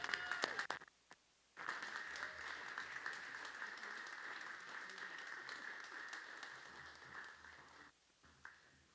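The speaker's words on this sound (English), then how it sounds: "One final applause for Judge Hill and Darcel Grimes." Award ceremony guests clap for the honorees, starting with a few sharp claps, a short gap, then a steady, moderately faint round of applause that thins out near the end.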